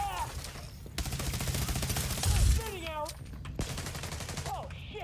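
Enemy gunfire in The Division Resurgence rattles in sustained bursts through most of the clip, loud and close, with a heavier impact near the middle and voices talking over the shooting.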